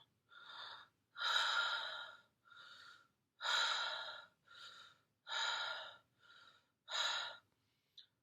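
A voice imitates a monster panting: eight heavy, raspy breaths alternating in and out, close and fairly loud with short pauses between them.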